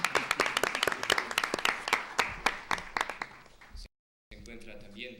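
A small audience applauds at an academic colloquium at the Universidad Veracruzana, with a few sharp distinct claps thinning out before a brief silence, after which a voice begins speaking.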